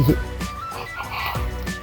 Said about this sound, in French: Mais les grenouilles là-bas,